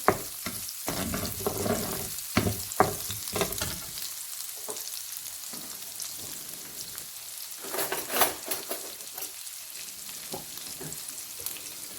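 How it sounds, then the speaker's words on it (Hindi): Crushed garlic fries in a pan for an eggplant and potato masala, giving a steady close sizzle broken by louder bursts of hissing as it is stirred, with no talking. "हम डाल देंगे इधर कुटा हुआ, ये हमारा गार्लिक है, लहसुन कुटा हुआ डाल देंगे।"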